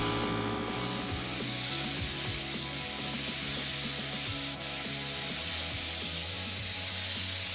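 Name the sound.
painting a truck camper by hand, back and forth strokes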